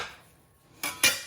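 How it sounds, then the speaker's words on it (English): A metal bench scraper is thrown down onto a kitchen counter while gluten-free cinnamon roll dough is being worked: after a quiet stretch come two loud, close clattering metallic impacts in quick succession. "Sorry for the loud noise of throwing my bench scraper down."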